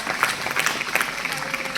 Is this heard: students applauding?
yes